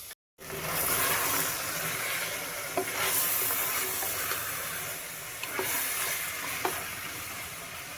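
Chicken biryani masala of ground mint, coriander leaf and green chilli paste sizzles in ghee while being stirred, a steady broad fry with a few soft scrapes of the spoon, close and continuous with no talking.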